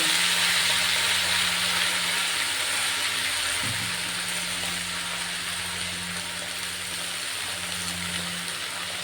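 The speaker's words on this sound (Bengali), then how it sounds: "এই সবজিগুলো কেটে ধুয়ে পরিষ্কার করে রাখা সবজিগুলো দিয়ে দেবো।" Vegetables tipped into hot oil with a dried red chilli for a pumpkin and Malabar spinach dish, giving a steady broad sizzle and hiss that runs the whole time, with a brief low thump partway through.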